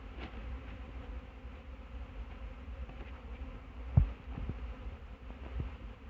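Honey bees buzz through a state hive inspection as nurse bees are bumped into a bucket: a steady, low insect drone fills the whole stretch, with a sharp knock near the middle and a few softer bumps after.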